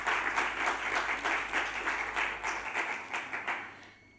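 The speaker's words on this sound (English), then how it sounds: "Please give a warm applause to Dr." Warm, even applause from a conference audience at a hospitality entrepreneurship event, many hands clapping in a steady wash that gradually thins and fades toward the end.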